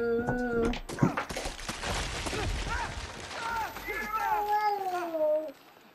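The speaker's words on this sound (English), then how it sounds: "Oh no, those are the wolves." Wolves howl in Uncharted 2, a drawn-out tonal wail that rises and falls over the last few seconds. Before it come scattered game sounds and a voice talking.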